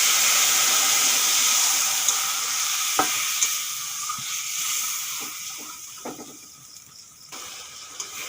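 Bay leaves, nigella seeds and spices fry in hot oil for a fish curry, a loud bright sizzle that settles lower, with a few stirring knocks near the pan.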